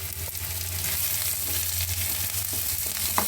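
Green chillies frying in oil in a pan, a continuous close sizzle with light crackling and a few small clinks of a utensil.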